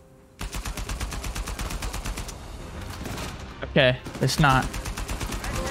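Rapid automatic gunfire in Uncharted 4, fired while hanging from a rope, rattles in steady bursts, with a voice speaking briefly between shots near the end.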